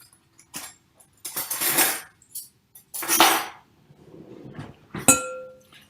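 A fork mixing vegetables and raisins in a bowl at a cooking club meeting, giving bursts of scraping and clinking, several separate strokes with short pauses, close and clear with no talk.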